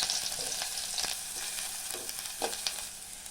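Cumin seeds and chopped onion fry in a spoonful of oil with a soft, even sizzle and a few brief stirring scrapes, close but fairly quiet.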